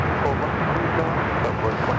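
A passenger airliner on a flight from Santa Rosa, California, arriving at Los Angeles International Airport, gives a steady broad jet roar with voices underneath.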